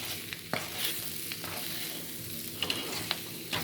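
Mutton liver coated in masala and garam masala frying in a pan while being stirred, a low steady sizzle broken by a handful of sharp spoon scrapes and clinks against the pan.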